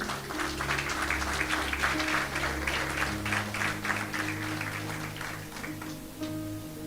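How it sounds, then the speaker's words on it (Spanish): A church congregation claps for God during a sermon, a fairly soft burst of many hands that fades over several seconds, with sustained low organ or keyboard tones underneath. "¿Puede darle un fuerte aplauso a nuestro Dios?"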